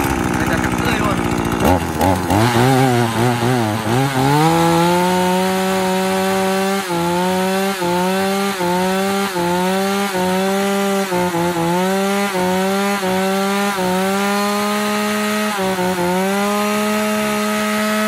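A Japanese-market two-stroke chainsaw, a used import of the Makita, Echo or Shindaiwa kind, starts up and runs loud and close for most of the clip, its engine note rising and falling in repeated revs with a steady buzzing drone.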